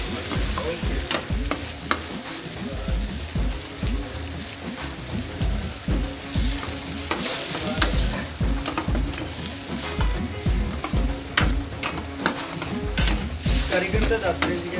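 Amul cream sizzling hard in a hot pan at a roadside dhaba while being stirred, a dense continuous crackle with rapid rhythmic scraping and clattering throughout, close and loud.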